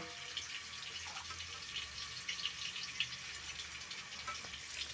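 Tap water runs steadily over raw chicken being washed in a home kitchen sink, a continuous close splashing hiss with small irregular spatters and no voices.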